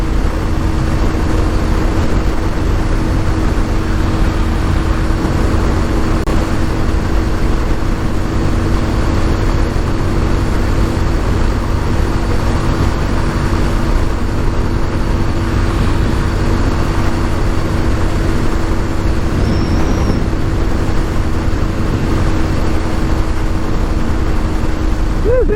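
A 1988 Yamaha Virago 250 motorcycle with a newly installed carburetor and a slightly sticking throttle, out on a ride, its engine a loud constant drone blended with heavy wind rush and no talking.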